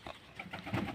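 Pigeons or doves coo in a short, soft, low murmur of overlapping calls, close by and without talk.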